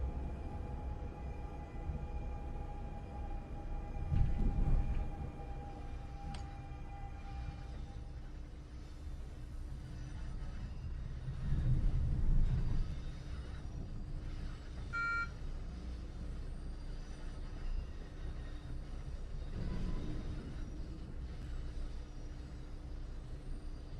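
The AOP 46 locomotive in Train Sim World 6 hums steadily off to the left, a continuous low drone with a few brief swells and faint tonal whines.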